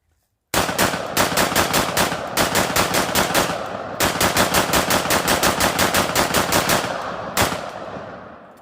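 A 30-year-old Norinco 56S AK-type rifle with a slab-side magazine fires in rapid, loud, close bursts of evenly spaced shots with brief pauses between strings, ending in a single shot and a fading echo.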